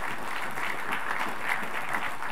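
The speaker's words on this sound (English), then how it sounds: "Let's give our guest a big round of applause." A church congregation claps for visiting guests, a steady wash of applause at moderate distance lasting a couple of seconds with no speech over it.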